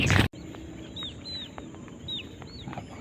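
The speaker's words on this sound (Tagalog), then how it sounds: "Napakaraming ibon mga kabantay." A large flock of birds, likely chickens, calls in a rural outdoor setting, with scattered chirps and clucks over a steady low ambient rumble after a brief loud burst at the start.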